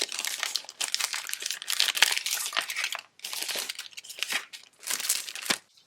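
Paper ephemera pieces from a coffee and books themed craft box being unpacked and laid out, with bursts of crisp crinkling and rustling in several separate handling bouts, close and loud.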